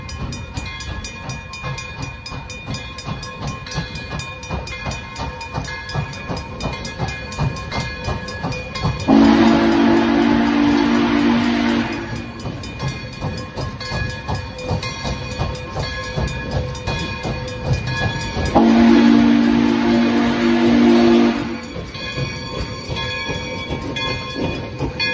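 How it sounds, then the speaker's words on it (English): Pere Marquette 1225 steam locomotive rolling slowly past trackside at Chipman Street in Owosso, on the North Pole Express, with a steady chuffing rumble and two long, loud whistle blasts sounding several seconds apart. "The train has a restricting speed of 10 miles per hour going through this part of town."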